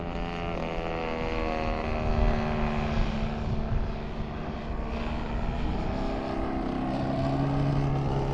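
A model Yak airplane in flight at an airfield, its propeller engine giving a steady, loud drone with strong harmonic whine throughout, rising slightly in the middle.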